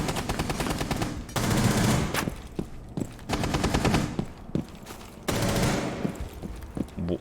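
Video game gunfire comes in several rapid automatic bursts separated by short pauses and a few single shots, loud and sharp with no speech.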